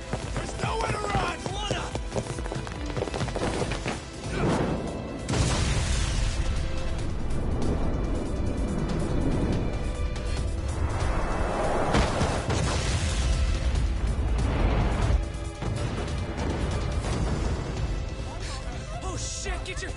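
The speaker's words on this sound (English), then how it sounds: "This ship just exploded!" A ship explodes in the video game Lost Judgment: dense booming bursts and crashing debris recur over a continuous rumble of game sound.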